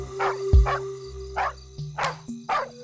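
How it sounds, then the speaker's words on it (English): A dog barks five times in a steady, fairly evenly spaced series, each bark sharp and close, with a low thump near the start and a faint tonal background beneath. "The dog started barking."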